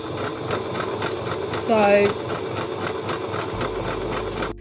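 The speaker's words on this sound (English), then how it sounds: "I'm going to show you guys exactly how I'm sewing" A sewing machine runs a small-allowance seam on jersey fabric for a bodycon dress, producing a steady mechanical whir throughout, with a brief louder swell midway.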